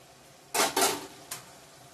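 A lid is set onto a pot of mung dal and ash gourd, giving two quick metallic clanks close together and a lighter tap shortly after, in an otherwise quiet kitchen.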